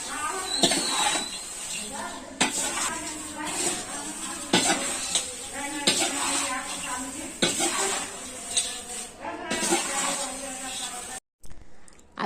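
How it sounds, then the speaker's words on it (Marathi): Homemade Diwali poha chivda with cumin powder and raisins being stirred in a pan: a steady run of metal scraping and light clatter for about eleven seconds, with a voice talking over it, then a brief drop-out near the end. "परत एकदा आपण हलवून घेऊया"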